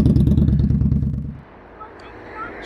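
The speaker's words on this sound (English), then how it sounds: "Go on, give it a wee rev." A vehicle engine in rural southern Scotland gives a loud, close rumbling rev that cuts off after about a second and a half, leaving quieter background noise with a faint click.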